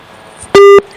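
A telephone call beep sounds once, a short loud electronic tone lasting about a quarter second, sitting alone over faint room noise.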